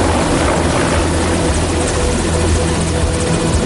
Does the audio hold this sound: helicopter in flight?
yes